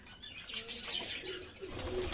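Native domestic pigeons cooing softly in a loft, low murmuring calls overlapping with light chirps and faint wing flutters, no one speaking.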